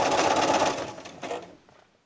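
Sewing machine stitching the final seam of a patchwork table runner: a dense whirring run of needle strokes for about a second and a half, then a short burst before it stops.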